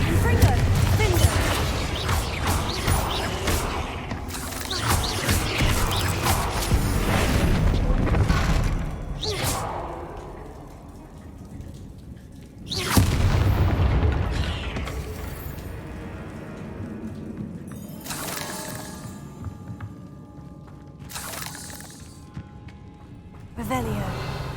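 Confringo fire spell blasts in Hogwarts Legacy, several booming explosions spaced apart among quieter stretches, with a voice calling out over the action.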